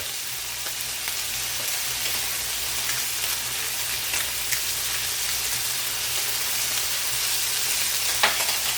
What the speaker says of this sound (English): we're gonna let this sizzle and get nice and cooked through and nice and crispy and brown gold